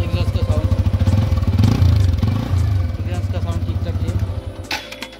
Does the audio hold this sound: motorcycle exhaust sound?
yes